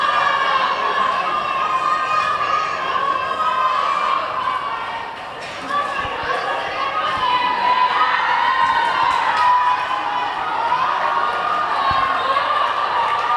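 Gateway College fans at a school football match against S. Thomas' College cheer and shout continuously in a dense, loud crowd roar, with voices rising and falling throughout.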